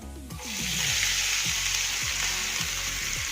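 Spices and chopped ingredients for a radish paratha filling hit hot oil in a pan, with asafoetida mentioned; a sudden loud sizzle starts and holds steady at close range, and a low-pitched voice speaks faintly underneath in bursts.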